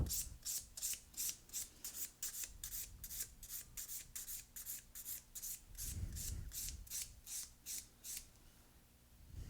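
An acrylic nail is filed with quick, close back-and-forth rasping strokes beveling toward the tip, a soft rhythmic scratching repeated many times in a quiet setting.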